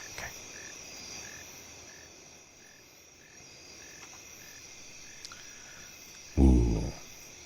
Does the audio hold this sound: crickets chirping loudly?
yes